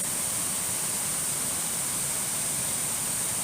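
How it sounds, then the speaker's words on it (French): Waterfall cascades in a forest give a steady, dense roar of rushing water that holds evenly throughout, loud and close, with no voices over it. "les cascades sont juste là, hein, vous les voyez là dans l'eau"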